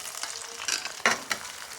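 Chopped onion hits hot oil in a pan for a chicken curry gravy, giving a faint, brief sizzle with a few quick spattering bursts, no voices.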